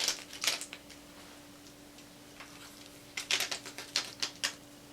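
Rubber key contacts being peeled off the printed circuit board of a Kurzweil/Fatar TP10 keyboard assembly, giving sharp clicky bursts of ticking and snapping, clustered at the start and again near the end, with a quiet stretch between.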